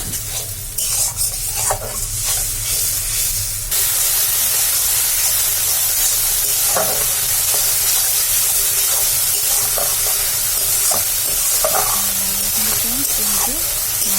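Masala with turmeric and ginger-garlic paste sizzling loudly in a pan, a constant close hiss with scraping stirs and faint voices in the background.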